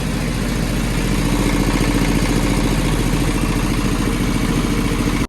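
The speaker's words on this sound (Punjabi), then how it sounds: "ਫਿਰ ਆ ਟੈਂਪੂ ਦਾ ਇੰਜਨ ਕਰੋ ਚੈੱਕ" A tempo's engine running to power a farm motor: a steady, close, rumbling idle with rhythmic mechanical clatter, continuous until it cuts off at the end.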